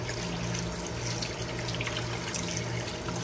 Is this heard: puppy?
no